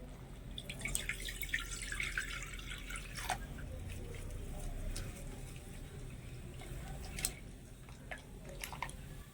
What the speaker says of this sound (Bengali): এবারে আলুটা একটু ধুয়ে নেবো